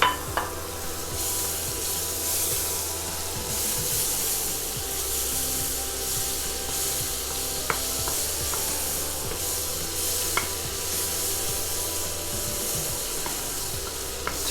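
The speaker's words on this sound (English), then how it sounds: "in a nice hot pan, we need to put in 2 tablespoons of butter" Two tablespoons of butter melt in a hot pan, giving a steady close sizzle and hiss that runs throughout, with a few faint scrapes and taps of stirring.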